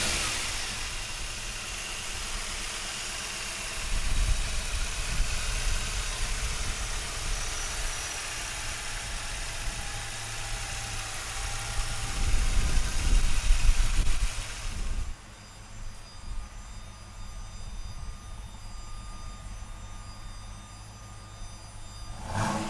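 A 1995 Ford Mustang Cobra with a 5.0 V8 fires up and settles into a steady idle, with a couple of throttle blips raising the engine note before it cuts out and quiet background hum remains.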